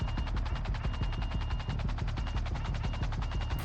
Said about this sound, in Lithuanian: Šūviai naftos platformoje.